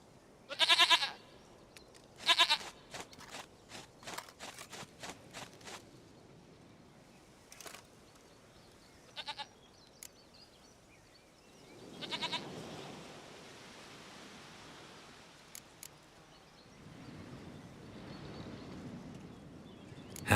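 Goats bleat in a Witcher 3: Wild Hunt game scene, several loud, close calls in the opening seconds, then sparser cries and a soft rustling ambience with no talk.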